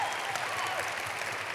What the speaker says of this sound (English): let's just give like a big clap.